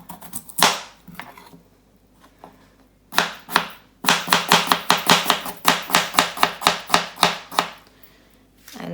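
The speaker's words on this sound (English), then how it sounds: "So the carrots I'm cutting at about 1/2 centimetre thick, and then we cut those all up." A knife chops carrots on a cutting board into thick slices, first a few scattered strokes, then a quick, steady run of crisp, close chops.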